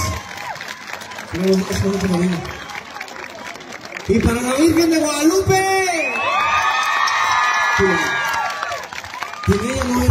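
A crowd at a patronal festival for the Virgin of Guadalupe claps and cheers with whoops and shouts, while someone speaks loudly over a microphone between bursts.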